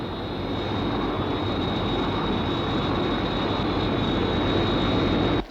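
SHADO Sky 1 interceptor aircraft in flight, a loud, steady roar with a thin high whine riding on top, holding constant until it cuts off abruptly at the end.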